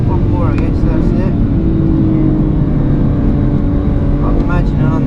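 A BMW on the Goodwood circuit gives a loud, steady engine drone that rises in pitch as the throttle comes back on, with a dense low rumble throughout.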